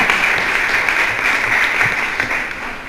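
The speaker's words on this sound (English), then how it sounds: "If anybody wants to applaud to that, feel free." Audience at an NAACP candidates forum breaks into steady applause, a dense even wash of clapping filling the whole short stretch.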